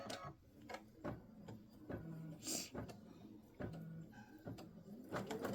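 An embroidery machine stitches color stop number 2, tacking batting down onto a quilt block with a quiet, rhythmic run of mechanical thumps and whirring needle strokes.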